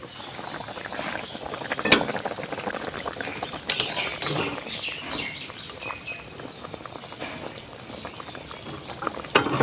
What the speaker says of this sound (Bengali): কাঁচা লঙ্কা দুটো দেওয়ার পরে আর একটু তরকারিটাকে ভালোভাবে নেড়ে ছেড়ে দেব।